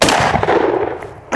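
A Rock Island Armory All Gen shotgun with an all-polymer stock firing slugs outdoors, one loud, close blast that decays into a long echo, with a second sharp report at the very end.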